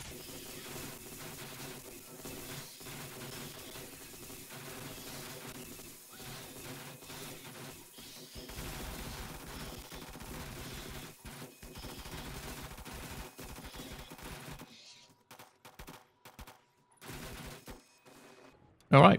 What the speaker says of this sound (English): now the SMG turret's getting involved